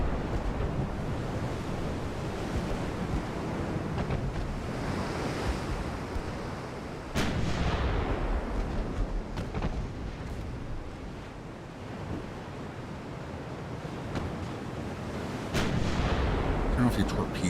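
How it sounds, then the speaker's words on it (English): Naval gunfire in the Ultimate Admiral: Dreadnoughts game, France 1890: sharp cannon blasts at about 7 and 15.5 seconds rise over a constant roar of ocean surf and wind, with a voice talking faintly underneath. "And we're not ending this yet. We're still firing."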